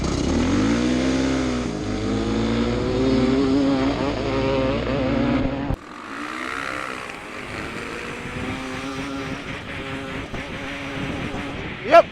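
Honda CR500R and CRF450R dirt bike engines roar continuously during a head-to-head race, one sustained high-revving drone giving way to a rougher, more distant engine sound with wind noise.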